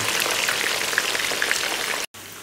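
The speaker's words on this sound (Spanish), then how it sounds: "las freímos y luego las colaremos a nuestra carne" Potatoes frying in oil in a pan, a dense steady crackle and spatter close by with scattered pops, cutting out abruptly near the end before resuming more quietly.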